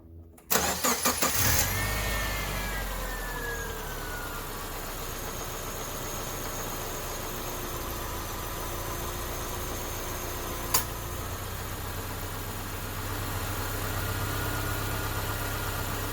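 A 2003 Subaru Forester with an overheating fault cranks briefly and catches, then settles into a steady, fairly loud idle that holds for the rest of the stretch, with one sharp click partway through.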